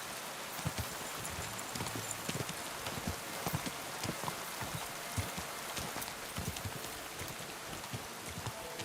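Rhythmic hoofbeats of a horse on the move in the video game Kingdom Come: Deliverance II, mixed with a steady wash of rain-like noise throughout.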